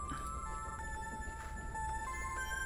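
A cell phone rings inside a video game, a steady repeating electronic ringtone with bright tonal pulses. The phone is stuck in a crack, and the ringing plays alone over a low background hum.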